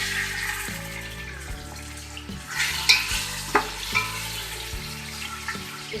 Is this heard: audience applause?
no